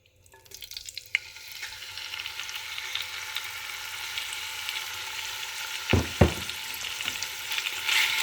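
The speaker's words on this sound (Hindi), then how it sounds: "अब इसमें मैं ये जो चिकन मिक्स करके रखा था, ये चिकन इसमें ऐड कर दूंगी" Chicken going into hot oil in a pan starts a loud, steady sizzle that builds and holds, close by, with a couple of brief scraping stirs partway through and no voices.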